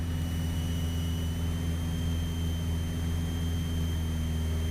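Both engines of a multi-engine training airplane hold a steady, loud droning hum with an even tone from inside the cabin, heard on its own with no talking.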